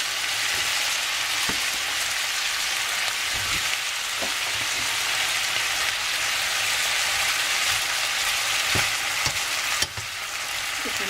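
Vegetables sizzle and crackle loudly in a hot pan while being stir-fried for chicken pad see ew, a dense, constant frying hiss close up, punctuated by occasional scrapes and knocks of stirring, with no talking.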